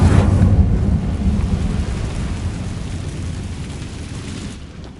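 Incendio fire spell cast in the Hogwarts Legacy video game, a loud roaring whoosh of flame that bursts in at the start and then rumbles steadily like a storm, fading slightly toward the end.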